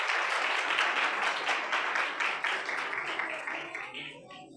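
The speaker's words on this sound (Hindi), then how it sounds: "एक बार फिर से इनके लिए ज़ोरदार तालियां।" Applause after a children's performance at an Advent Sunday church service, a dense burst of clapping from a crowd that stays strong for a few seconds and then tapers off.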